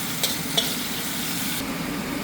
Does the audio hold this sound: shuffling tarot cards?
no